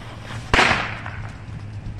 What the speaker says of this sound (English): Too big of an explosion. Oh, that was so loud.